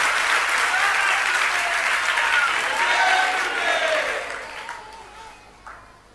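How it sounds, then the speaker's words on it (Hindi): Audience seated on the floor at a Jain pravachan break into sustained applause, steady and full for several seconds before tapering off into scattered claps. "सब नीचे बैठे बैठे ताली बजा रहे हैं।"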